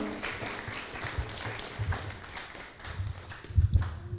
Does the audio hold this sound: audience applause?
yes